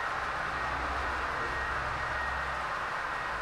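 Model railway trains running on a layout, including a Pullman descending into a helix and an HST 125 unit with a full rake of coaches, producing a steady, continuous rumbling track noise with a low hum throughout, no voices.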